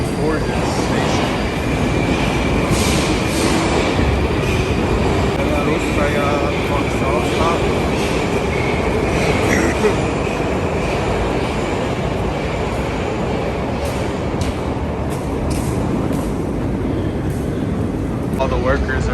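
Moscow metro train at an underground station, a loud continuous rumble and roar of cars with squeals and clatter over the station ambience, people talking nearby.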